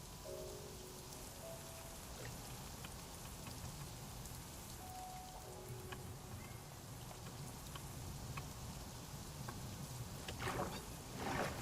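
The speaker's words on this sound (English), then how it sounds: "And it's raining." Rain falls in a hardcore survival video game as a dense, steady patter of drops hissing on surfaces, even and continuous, with a couple of short tonal game chimes early on and a louder splash of drops near the end.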